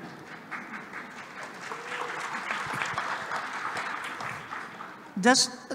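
Conference session audience clapping at moderate level, a dense patter that swells mid-way, with brief voices and a sharp tonal sound near the close.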